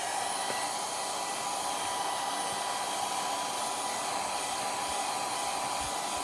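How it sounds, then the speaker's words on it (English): Blow dryer running on a low setting to dry fabric reindeer, a continuous even whoosh of airflow with a steady hum, close and unbroken throughout. "Let me use my heat gun here, or my blow dryer, and I will do it on low because they're still not quite dry."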